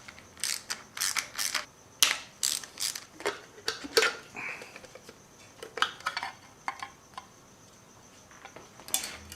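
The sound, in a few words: ratchet removing engine valve cover bolts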